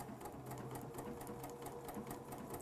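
A Bernina sewing machine stitches out a custom-designed decorative stitch, a steady rapid mechanical whir with regular needle clatter, close and continuous throughout.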